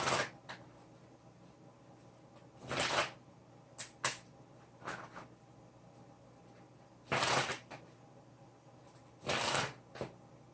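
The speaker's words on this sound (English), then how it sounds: "I'm going to give it a couple of shuffles." Tarot cards being shuffled by hand in a series of short, crisp riffling bursts separated by pauses, close and fairly quiet with no talking.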